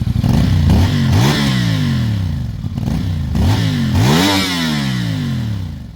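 A 2024 CFmoto 450 SR motorcycle accelerates hard, its engine climbing in pitch with each gear, dropping at quick shifts and winding up again, loud and close with no talk.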